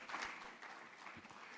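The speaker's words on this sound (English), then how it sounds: "Shall we welcome her with a round of applause as she comes?" Applause from a conference audience welcoming a minister at an energy technology conference, a dense continuous wash of clapping heard from within the hall, steady and moderately loud throughout the short stretch.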